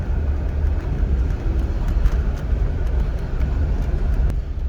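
A car at an auction drives along with a steady low engine and road rumble, even and unbroken, with faint intermittent ticks above it and no voices.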